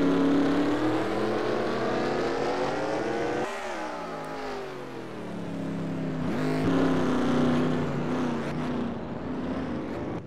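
Race cars roar off the green flag on a quarter-mile track inside the Los Angeles Memorial Coliseum, a loud continuous pack of engines with rising revs as they accelerate, briefly dipping and then surging again.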